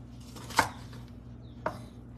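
A knife slices thin pieces of bottle gourd, with two separate sharp cuts clear against a quiet kitchen hum and a long gap between them.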